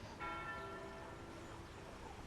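Church bells ring with a sustained metallic tone, one strike fading slowly, heard faint and distant against a hissy background.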